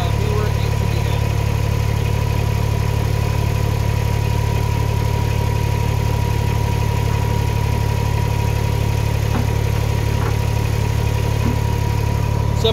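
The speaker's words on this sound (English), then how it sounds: "This is as simple as running that cylinder out" A Kubota BX compact tractor with a hydraulic top link idles in a steady, close mid-pitched diesel drone, unchanged throughout while the cylinder is run out.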